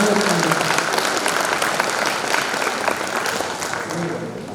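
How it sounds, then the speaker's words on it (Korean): A large seated audience of pharmacists at a professional training event claps steadily for several seconds, a dense, loud wash of applause that slowly eases. "큰 박수를 우리 회원 여러분 부탁 한번 드리겠습니다"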